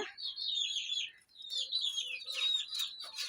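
Pigeon chicks and backyard chickens chirping at close range: thin, high repeated peeps and tweets in quick overlapping runs, with a brief pause midway, fairly quiet against a silent background.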